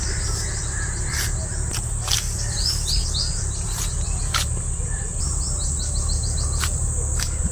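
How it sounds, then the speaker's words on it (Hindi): Birds chirp in short repeated bursts over a steady insect-like hiss and low hum in a village orchard in the early morning, the calls clear but moderate against the constant background. "पक्षियों की आवाज़ सुनो कितना प्यारे परिंदे।"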